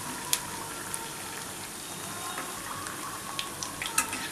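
Papdis frying in hot oil on a high flame, a steady broadband sizzle and bubble with a few sharp crackling pops, close and continuous with no talk.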